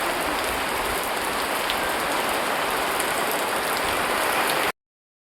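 Heavy monsoon rain on a trek to misty Prabalgad fort, a loud, dense patter of drops hitting surfaces close by, unbroken for about five seconds before cutting to silence.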